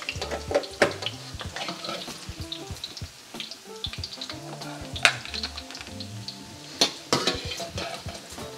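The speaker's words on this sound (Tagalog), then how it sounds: "para maprito yung pork belly." Pork belly fries in oil in a pan, a soft sizzle broken by scattered clinks and scrapes of a utensil against the pan, over faint background music.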